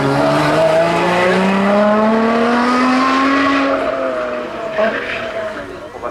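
A race car at a hill climb sweeps past a corner, its engine note climbing and then falling as it passes near and loud, while a commentator talks over it.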